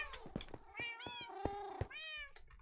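A Minecraft cat meows in a quick series of close, clear mews, some short and some drawn out, with no talking over them.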